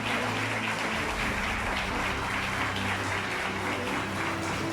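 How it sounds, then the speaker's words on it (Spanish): Church congregation clapping in praise to God during a service, a continuous soft wash of applause with low music humming underneath, distant and even. "Y le alaban a Dios con un aplauso,"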